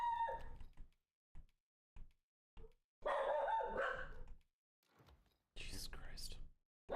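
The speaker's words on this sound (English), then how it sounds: "I'm sorry that the neighbor's dogs are fucking annoying." Neighbour's dogs bark in a series of short, sharp bursts at a distance, with quiet whispering and talk in between.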